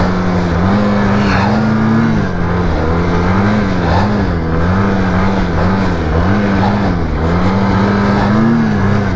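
A four-stroke dirt bike engine revs hard and continuously, its loud buzzing tone rising and falling as the throttle is worked, close to the listener for the full stretch with no voices.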